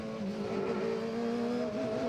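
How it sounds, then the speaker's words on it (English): A Radical race car engine drones steadily from on board at Snetterton during a 2006 Radical Enduro Cup race, a loud sustained hum of high revs with slight pitch shifts. "We're on board with David Hodgson in car 65."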